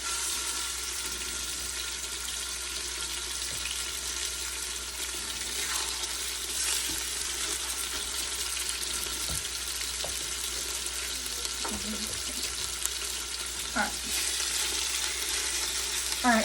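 Pork carnitas pieces sizzling and browning, seasoning side down, in an Instant Pot, a steady close frying hiss with scattered small pops and crackles throughout.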